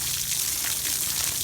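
A steady spray of water from a hose soaks a horse during a wash, a close and continuous hiss with no break.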